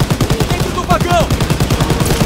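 Machine gun fire in the World War II shooter game Call of Duty WW2, loud rapid bursts of regular shots repeating throughout with brief whistling sounds in between.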